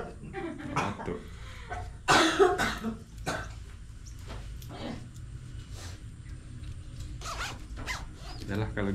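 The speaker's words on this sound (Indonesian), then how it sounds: "Tuh pula jadi batuk ni." A person coughs several times in short, uneven bursts at close range, with rustling and small handling noises between the coughs.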